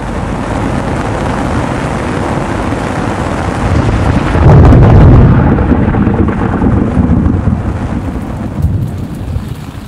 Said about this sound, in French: on se retrouve plongé dans l'orage le plus violent du voyage